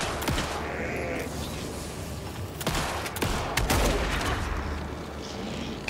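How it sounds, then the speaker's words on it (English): Shotgun blasts in the Alan Wake 2 video game: several heavy booming shots spaced irregularly over a dense, loud background of game noise. "that shotgun is insane"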